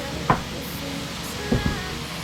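Ground beef sizzling in a pan, a steady soft frying hiss with a few brief stirring clacks of a utensil.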